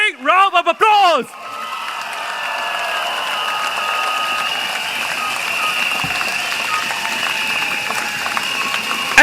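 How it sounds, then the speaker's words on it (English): A large crowd at a PAP election rally for Pioneer and West Coast-Jurong West claps in sustained applause after a brief burst of amplified speech, the clapping steady and moderately loud with a faint tonal hum beneath. "please give them a big round of applause"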